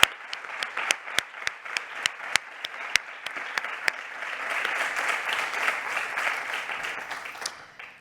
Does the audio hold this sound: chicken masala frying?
no